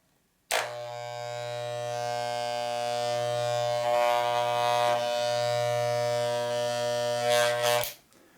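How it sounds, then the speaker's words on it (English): Electric hair clippers switch on and run with a loud, steady buzz that shifts slightly in pitch as they move, then cut off abruptly after about seven seconds. "And probably more interestingly, clippers, the actual clippers."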